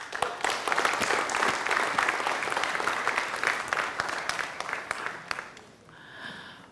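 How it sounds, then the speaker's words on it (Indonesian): Studio audience at an Indonesian TV talk show applauds loudly and steadily for several seconds, dense clapping that thins out and fades near the end. "saya minta aplaus sekali lagi untuk sahabat saya, Dik Doang."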